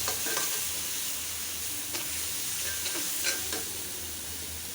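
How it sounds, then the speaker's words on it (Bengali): Spice paste frying in oil for a dried fish bharta gives off a steady close sizzling hiss, with occasional faint stirring scrapes and small crackles and no one speaking. "এখন মশলাটা একটু কষিয়ে নেব"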